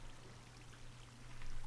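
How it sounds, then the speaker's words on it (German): Water pours and trickles from a block of ice in Minecraft, a steady, faint rushing stream that swells slightly toward the end. "Warum kommt da Wasser raus?"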